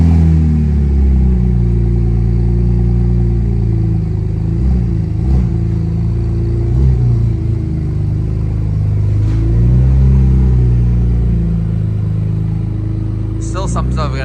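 A loud BMW engine with the exhaust removed idles and revs with a deep, rough, unmuffled rumble, steady throughout with occasional throttle blips and background voices.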